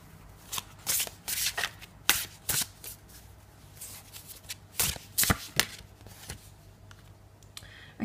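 Tarot cards are shuffled by hand in a quiet room, a series of crisp riffling bursts and soft slaps coming in irregular clusters, close and fairly clear.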